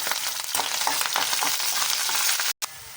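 Green chillies frying in hot oil, a dense steady sizzle with a few stirring clicks that cuts out for a split second near the end, no voices.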